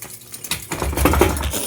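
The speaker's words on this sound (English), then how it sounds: "I broke all the carbon blades off the fan" Carbon blades of a Harbor Breeze Port Severn ceiling fan in a living room snap off and clatter down, a quick burst of scattered light hard impacts and rattling, close and moderately loud.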